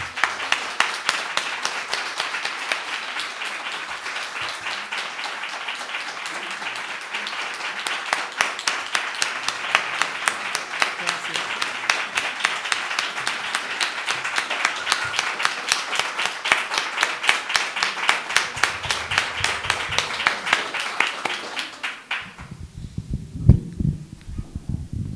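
Sustained audience applause after a talk at a public event, many hands clapping densely and steadily for about twenty seconds before breaking off into quieter room noise and scattered sounds.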